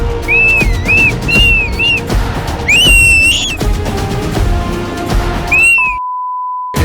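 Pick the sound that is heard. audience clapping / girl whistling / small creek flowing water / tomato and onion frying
girl whistling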